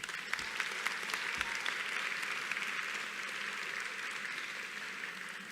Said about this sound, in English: Please give your faculty a round of applause.